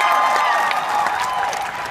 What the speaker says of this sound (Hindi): अगर आपको अच्छा लगे तो प्लीज ताली मार देना